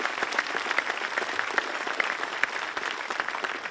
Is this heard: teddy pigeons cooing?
no